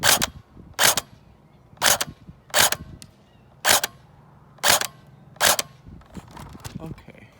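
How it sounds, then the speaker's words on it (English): Airsoft G3 SG1 rifle firing with the bolt open, eight sharp, close cracks in a loose, irregular rhythm about a second apart, each one standing out clearly above quiet room noise. "Let's see if I can fire it with the bolt open."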